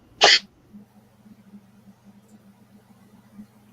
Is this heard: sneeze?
yes